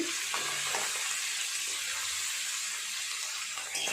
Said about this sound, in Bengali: খুব ভালোভাবে মাছের মাথাটাকে ভাজা করে নিয়েছি